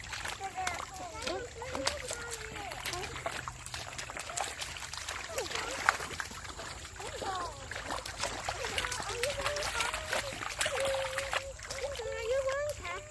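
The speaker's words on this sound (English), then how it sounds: "We have to walk really gently in the creek and stream." Gentle wading through a creek and stream: soft, continuous water splashing and trickling around the footsteps, heard under children and an adult talking.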